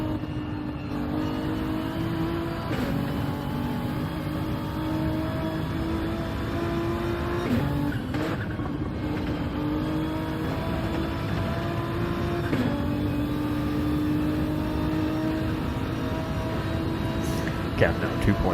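Race car engines roar at Le Mans in a racing video game, with a GT-R and a BMW among the GT cars, a steady loud drone with gear-change dips and revving swells, under continuous commentator talk.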